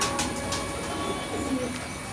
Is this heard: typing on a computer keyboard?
no